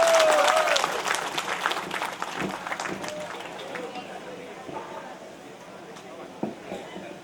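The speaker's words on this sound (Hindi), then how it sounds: "जोरदार तालियों के साथ शुरुआत कीजिए सर का" Loud audience applause at an event in Ladakh welcoming the local Member of Parliament, strongest at the start and gradually fading over several seconds, with voices briefly audible early on.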